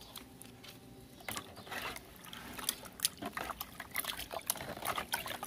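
Three liters of water are mixed with spoonfuls of castor cake fertilizer and poured, giving irregular splashing, trickling and sloshing with a few clinks, moderately close and growing busier toward the end, with no talk.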